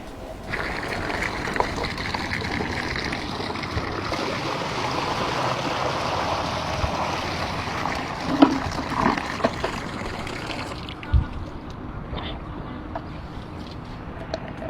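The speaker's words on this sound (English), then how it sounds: "No matter how much water I pour into this bucket" Water is poured into a bucket in a steady, splashing stream that runs for about ten seconds before stopping, followed by a few faint drips and knocks, close and alone.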